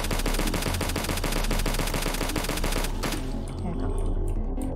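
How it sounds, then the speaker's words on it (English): Rapid automatic turret gunfire in the video game HROT, loud sustained bursts of shots that cut off partway through, followed by a quieter lingering rumble. "Let me just get rid of that turret. Hey, stop shooting me."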